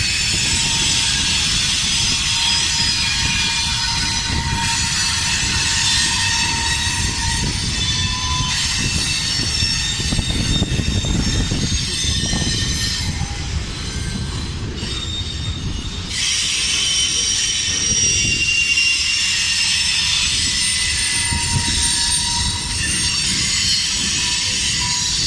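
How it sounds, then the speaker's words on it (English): A CSX manifest freight train rolls past close by, loud and continuous, with wagons rumbling and clacking and sustained high-pitched wheel squeals rising and fading along its length. "CSX changed the manifest train from Q to M. M stands for manifest, so that's manifest train"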